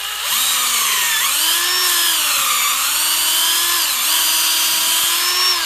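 A power drill bores at an angle into a maple tree trunk for syrup tapping, its motor pitch dipping and recovering under load, loud and continuous throughout.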